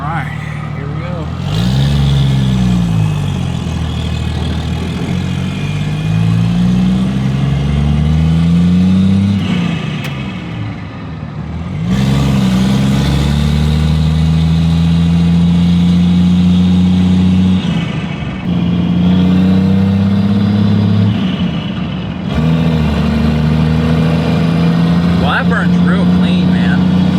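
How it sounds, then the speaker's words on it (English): A dually pickup truck with newly installed injectors is driven, its engine loud and close as it repeatedly revs up through rising pitch sweeps and drops back between accelerations. "We are in the dually, and this is my first time driving it."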